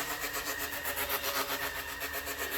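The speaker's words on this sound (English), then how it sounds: "we immediately run into tire scrub issues with the front tires rubbing the fenders of the body" A Traxxas Mini Slash 4x4 RC truck runs with its front tires scrubbing against the body's fenders, a steady whirring motor with a rhythmic pulsing rub, alone without voices.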